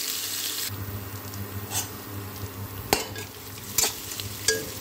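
Chopped onion frying in oil and being stirred in a pan, a steady sizzle with sharp scraping spoon strikes at intervals and a low hum underneath.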